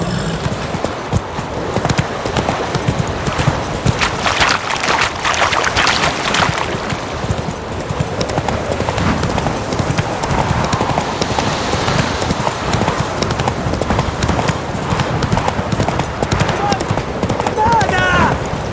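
The horse Roach's hooves clip-clop at a steady galloping rhythm in The Witcher 3, loud and continuous over an outdoor ambience, with occasional voices speaking over the hoofbeats.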